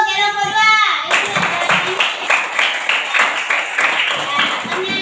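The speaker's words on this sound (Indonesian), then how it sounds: "tepuk tangan untuk kelompok 2" A classroom claps for a student group, a loud burst of many hands breaking in after a brief chime-like tone, then settling into a quick, rhythmic patter close by, with children's voices mixed in.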